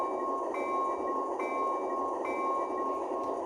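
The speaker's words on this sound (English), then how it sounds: "they actually used a different stock bell sound file compared to the other ones" Athearn Genesis Dash 9-44CW model locomotive in Union Pacific 9702 75th anniversary livery, its DCC sound decoder ringing the bell with a steady, evenly repeated clang that carries alone throughout at moderate volume.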